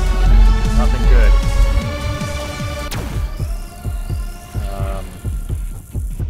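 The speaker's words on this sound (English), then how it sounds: "Why do we hear a heartbeat?" Low-health heartbeat warning in the video game This Means Warp, a steady rhythmic thumping pulse repeating under continuous background game music and effects.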